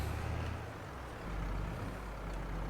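A heavy truck pulling dolly trailers idles and manoeuvres close by, a steady low diesel rumble with a slight rise in engine note midway.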